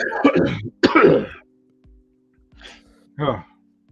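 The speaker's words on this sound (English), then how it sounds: "Yeah, he's gonna be coughing." A few short coughing bursts and throat clearing, close to the microphone, separated by quiet gaps with a faint low hum underneath.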